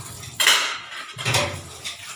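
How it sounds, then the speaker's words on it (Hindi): Dishes, pots and pans being washed in a home kitchen, with two close bursts of clattering metal and ringing cutlery against a running-water hiss. "धुल गए मेरे बर्तन काफ़ी सारे, सुबह सुबह बहुत बर्तन हो जाते हैं"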